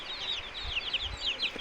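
A desi village hen clucks in soft, repeated bursts while teaching her chicks to eat, with faint high chick peeps and chirps running throughout, heard nearby on an organic poultry farm.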